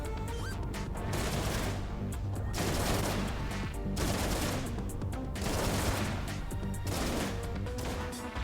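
Sustained enemy gunfire in the space shooter game Everspace 2, dense bursts of rapid shots with crashing impacts, loud and continuous throughout with brief lulls between volleys.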